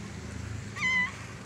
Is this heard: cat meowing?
yes